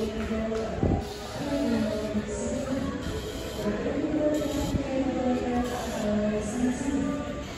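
Jayakarta passenger train at Lempuyangan station, a steady low rumble and rolling drone of railcars that fills the whole stretch, with a person talking over it.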